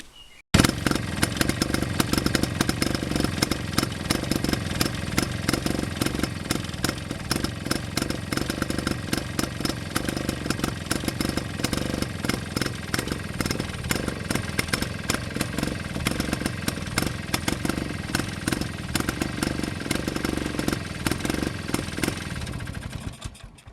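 A Villiers 9E two-stroke engine on a Pengor Penguin idles steadily after a quick carburetor cleaning, a loud, close, continuous rapid clatter that runs for the whole stretch before cutting off at the end.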